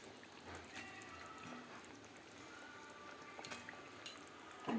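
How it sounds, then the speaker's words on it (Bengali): Fish curry gravy bubbling in a pot, a low, steady simmering hiss with faint pops and drips, quiet and close. "ঝোলটা ফুটে গেছে"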